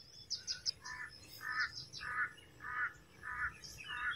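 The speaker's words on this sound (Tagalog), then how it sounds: "May uwak dun sa taas guys." Bird calls repeat about six times at an even pace over a quiet field where herbicide is being sprayed. Each harsh call is moderately distant and stands out against low background noise.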